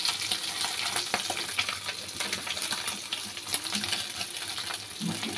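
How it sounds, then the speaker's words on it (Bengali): Fish pieces sizzle and crackle in hot oil in a pan, a close, continuous frying hiss with small pops and light clinks scattered through it. "মাছ ভাজা হচ্ছে"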